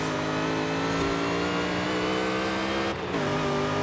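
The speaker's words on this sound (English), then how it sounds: "I grenaded the engine there." In Forza Horizon 5, a 2005 Ford GT's engine roars at a sustained high, even drone after a botched two-gear downshift, then dips briefly near the end before carrying on, loud and continuous.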